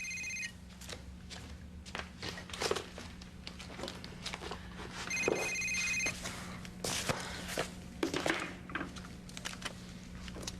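A cell phone rings indoors in a building in a repeating electronic tone pattern, heard in bursts over a low hum with footsteps and shuffling movement nearby.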